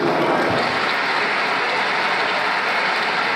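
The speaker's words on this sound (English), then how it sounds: "Please, a round of applause." Loud, dense applause from a large audience at an annual scientific conference recognition in Nigeria, a steady unbroken wash of clapping filling the whole moment with no speech over it.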